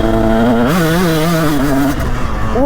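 A 2021 Beta 480 RR dirt bike rides a West Virginia trail with its engine loud and close, revving up and down in wavering pitch through quick throttle blips.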